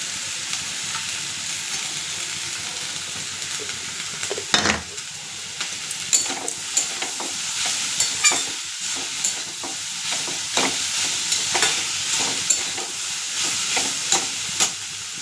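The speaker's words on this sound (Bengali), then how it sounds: "নাড়ছি। ছোলা বাদামটা দিয়ে দিচ্ছি" Chickpeas and peanuts frying in a pan give a continuous soft sizzle, broken by frequent spoon scrapes and knocks as they are stirred, close and even, with no speech.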